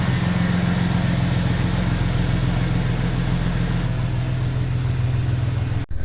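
Car engine revving and idling up close, a steady low rumble with modest throttle rises throughout, cutting off abruptly at the end.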